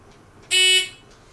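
Single short electronic beep from a USPSA shot timer signalling the audible start, a bright steady tone lasting about a quarter second, close and loud against a quiet background.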